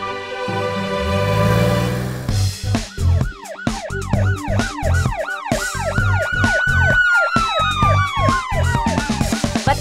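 A cartoon police siren wails in rising and falling sweeps, loud and close, with a bright musical backing.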